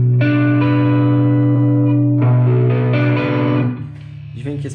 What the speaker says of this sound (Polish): Dźwięk jest na 12 i zniekształca.